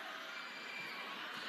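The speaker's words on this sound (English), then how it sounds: "Again, you can hear the crowd at Phil Sports Arena." Volleyball crowd cheering in the Phil Sports Arena during a men's SEA Games semifinal between the Philippines and Thailand, a dense, steady roar of many voices filling the hall without letup.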